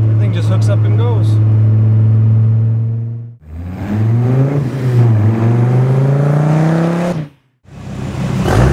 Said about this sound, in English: It's probably one of the meanest sounding cars out there, and the V10 has such a distinct sound.